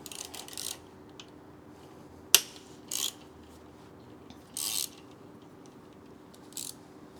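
A ratchet loosens an 8 mm captive bolt on a Husqvarna Svartpilen 401 motorcycle. A sharp metallic click is followed by three short bursts of rapid ratcheting, spaced apart, against a quiet workshop background.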